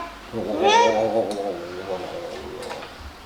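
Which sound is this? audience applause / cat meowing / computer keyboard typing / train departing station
cat meowing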